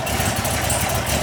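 A 2020 Chevrolet Camaro 1LE V8 fitted with a C7 camshaft idles close by, giving a steady low rumble with a choppy, loping pulse through a short stretch.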